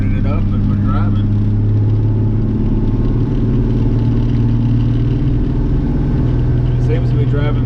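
A car with Lucas Stop Slip transmission treatment added drives along, its engine a loud steady low drone with a constant hum that stays even throughout, heard from inside the cabin.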